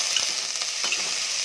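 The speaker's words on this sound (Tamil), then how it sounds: "எல்லாத்தையும் நல்லா வதக்கிக்கலாம்." Onion, mint, coriander leaves and green chilies sauté in a pan with a steady, hissing sizzle and faint stirring scrapes throughout, close and continuous.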